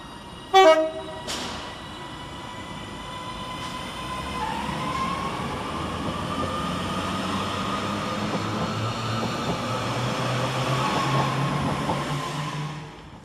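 A Northern class 331 electric multiple unit departs Cheadle Hulme station, opening with a couple of short horn toots, then a steady rising motor whine and rolling rail noise that builds and holds as the train pulls away close by.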